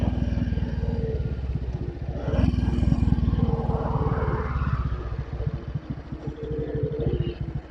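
A Royal Enfield Bullet 500 with a sidecar, its single-cylinder engine thumping in a fast, steady pulse while underway, loud and close, with wind rush and a rise in revs partway through.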